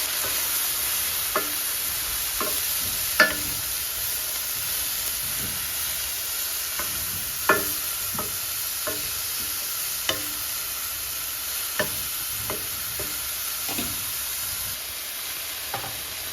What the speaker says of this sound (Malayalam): ഇനി നന്നായിട്ട് ഇളക്കി ഒന്ന് വേവിച്ചെടുക്കാം.